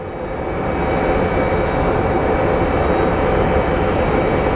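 An American Airlines Boeing 737 MAX jet from New York roars past at Phoenix Sky Harbor airport, a loud broadband engine rumble swelling slightly and then holding steady.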